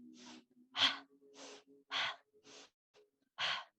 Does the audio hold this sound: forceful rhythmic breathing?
yes